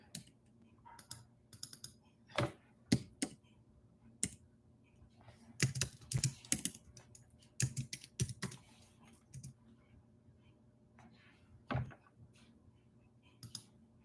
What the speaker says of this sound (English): Y'all probably hear all that clicking.